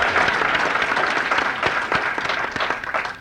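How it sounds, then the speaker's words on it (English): Audience applause at the 5th Northern Spring Roundup gathering in Grand Forks, North Dakota: dense, steady clapping from a crowd fills the whole stretch at moderate volume. "By God, I'm going to applaud that"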